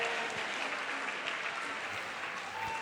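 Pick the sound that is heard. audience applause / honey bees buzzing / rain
audience applause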